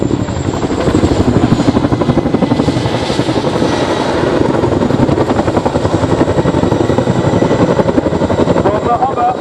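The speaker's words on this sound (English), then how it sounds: "nose down quick stop is used to turn the aircraft on a sixpence" A military helicopter at the Cosford Airshow roars loud and close with a steady rotor thump while performing a nose-down quick stop, the chopping beat continuous throughout.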